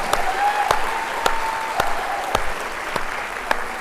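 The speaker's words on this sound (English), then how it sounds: "Let's give them a round of applause first." An audience of educators at a school district convocation applauds in a steady round of clapping, with a faint voice carrying over the crowd and a few sharper claps standing out.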